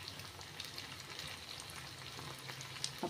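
Beef pieces fry in a pan with a steady, soft sizzle and crackle that holds evenly throughout, faint and close by with no voices.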